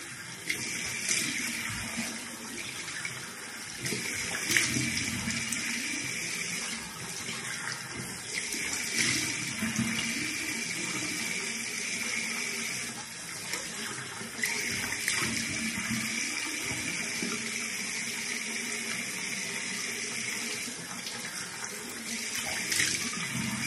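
Tap water runs steadily into a sink during a facial cleansing routine in a bathroom, a continuous close hiss and splash with small shifts in flow and no speech.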